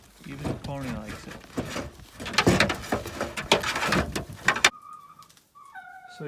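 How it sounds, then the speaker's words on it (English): Chickens in a farm chicken house give soft clucks and coos under a busy mix of movement and people talking, followed by a few clearer, closer bird calls once the noise drops. "So you can see in our chicken house we've got quite a bit of roosting space for the birds."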